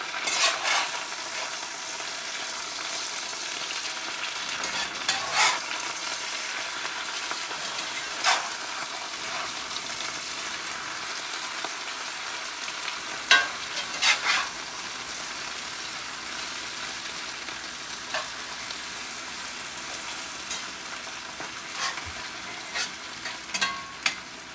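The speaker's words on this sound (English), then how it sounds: "now we're going to flip it because they browned on one side" Potatoes fry in a pan with a steady, bright sizzle throughout, punctuated by scattered pops and spatters as they are turned over after browning on one side.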